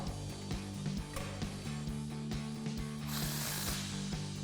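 A ratchet tightens a 13mm bolt on a sway bar bracket of a Jeep Wrangler JL, its rapid pawl clicks running as a steady close-up series with brief pauses between strokes.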